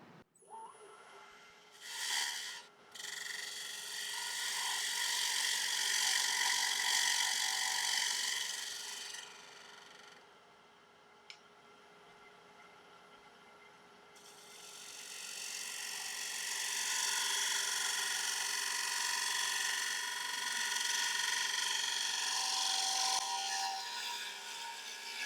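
Lathe gouge cutting and hollowing a punky, cracked hornbeam bowl blank, a steady close scraping whir that runs loud for several seconds, dips to a quieter hum, then resumes strongly.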